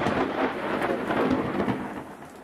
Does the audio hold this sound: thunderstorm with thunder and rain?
yes